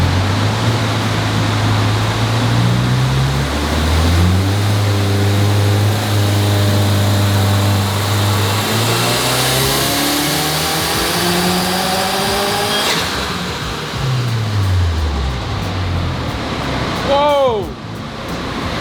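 A 2024 Subaru WRX with a custom flash tune revs hard on a dyno, its engine climbing in pitch through the gears in a loud, sustained pull before dropping off, with a brief whooshing release near the end.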